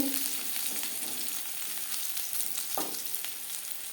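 Bitter gourd frying crisp in hot oil over a low to medium flame makes a continuous close sizzle and crackle, with occasional soft scrapes of stirring.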